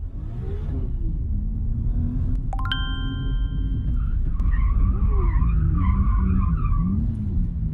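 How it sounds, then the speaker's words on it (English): A drift car spinning out on a wet surface: a loud continuous engine rumble with sliding tire noise, a brief sharp metallic ding, then a wavering high squeal of tires, close and without voices. "I initiate as usual and the car spins out"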